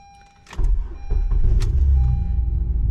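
A Honda car engine turns over and settles into a steady, rumbling idle close by, with a faint high whine running through it.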